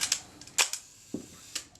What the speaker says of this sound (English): Shutter's working very well.